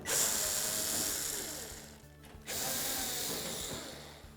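A power drill whirs loudly and steadily removing retaining screws from a clothes dryer cabinet top, drops off for a brief pause, then starts up again and keeps running.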